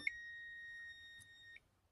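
A single steady electronic beep from a newly installed USB-C tamper-proof electrical outlet rings out for about a second and a half, clear and tonal, then cuts off into near silence.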